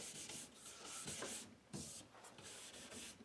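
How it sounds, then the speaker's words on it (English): A nylon brush scrubs leftover wax off a cross-country ski in quick, repeated back-and-forth strokes, a soft and close rasping rhythm with no voices. "Once I feel like all the wax is pretty much gone, I'm going over with my nylon brush."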